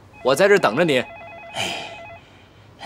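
A telephone rings with a warbling electronic tone in an indoor drama scene, running for about two seconds beneath a man's speech and then fading out.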